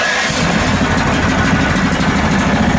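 The engine of a Rilon welder cranks briefly then catches and runs, settling into a loud, close, steady rumbling chug with a rapid pulsing beat and no talk.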